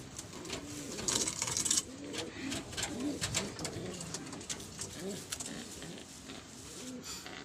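Racing pigeons and young squabs in a loft keep up a continuous, layered cooing, fairly faint and close, with a voice murmuring now and then among the birds.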